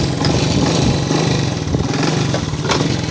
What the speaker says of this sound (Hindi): बाइक स्टार्ट हो चुका है